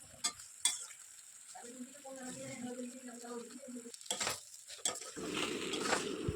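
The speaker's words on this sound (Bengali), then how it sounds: "এবার ভালো করে সব মশলাগুলোকে নিয়ে আলুটা ভালো করে কষাতে হবে" Potatoes are stir-fried with spices for a Bengali rui fish curry, giving a faint, soft sizzle broken by a few sharp scrapes and clacks of a spatula against the pan.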